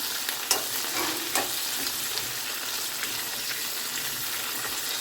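Whole spices crackle and sizzle in hot oil in a pressure cooker pot as a tempering for bagara rice, a dense continuous hiss with a couple of sharp stirring clinks near the start, close up with no voices.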